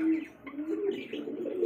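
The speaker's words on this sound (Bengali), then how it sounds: "এখানে আরও এক জোড়া কবুতর" A pair of red King pigeons coo softly and continuously in a low, rolling burble, with a faint higher chirp now and then and no talking.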